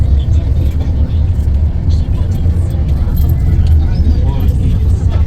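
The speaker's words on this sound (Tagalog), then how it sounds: "at nakasakay na po kami sa bus." Steady low engine rumble and road noise fill the cabin of a moving bus on a trip to Antipolo, constant and loud throughout, with faint rattles on top.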